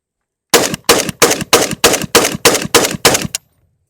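Rapid semi-automatic fire from a Draco pistol emptying a magazine, about nine sharp, loud, evenly spaced shots over three seconds, then silence with no talk.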